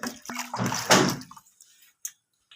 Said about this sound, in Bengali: এবার আমি ভেজানো চালটা দিয়ে দিচ্ছি। আমি ওই জল সমেতই দিচ্ছি যে লেবু জলে ভিজিয়ে রেখেছিলাম।